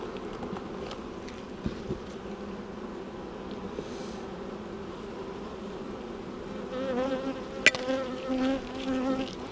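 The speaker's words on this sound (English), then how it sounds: "we can leave those bees, they will fly from the frame" Honey bees lift off a hive frame during a spring inspection, giving a soft, continuous droning buzz with a few brief knocks and a louder burst of wingbeats near the end.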